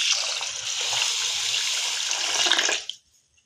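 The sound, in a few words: water poured onto washed soaked lentils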